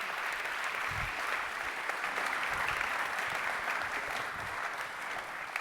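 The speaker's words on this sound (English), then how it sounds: "Please give them all a round of applause." Sustained applause from a summit audience, dense clapping that holds steady and loud throughout.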